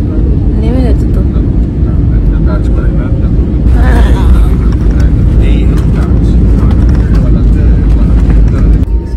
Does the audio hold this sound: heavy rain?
no